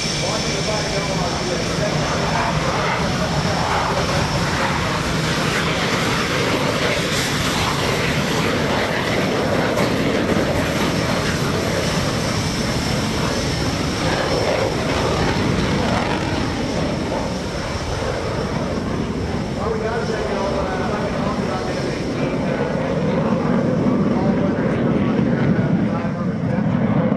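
An F/A-18 Hornet jet roars past at a Navy fleet air power demonstration airshow, a loud, sustained broadband engine rumble lasting throughout while an announcer talks over it.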